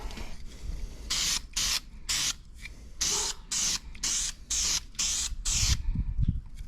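Cylinder heads for a '69 Chevelle are spray painted from an aerosol can in a series of short hissing bursts, about nine of them, with brief pauses between. The bursts sound close and steady. A faint clunk follows near the end.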